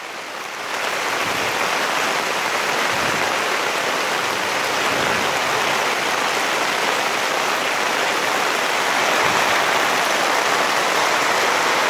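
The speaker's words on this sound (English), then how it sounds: "If you're curious as to what the yurt looks and sounds like during a major rainstorm, this is it." Heavy rain drums steadily on a yurt roof during a major rainstorm, a dense, continuous hiss of water that stays loud and even throughout, with no voices.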